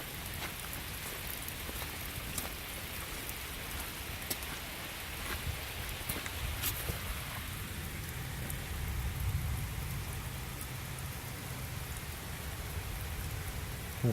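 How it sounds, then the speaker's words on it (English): Steady rain pours onto a parked RV, a dense, even hiss of drops drumming on the roof and surfaces with occasional louder splashes, close and continuous throughout with no voices. "Raining pretty good. Pretty good test."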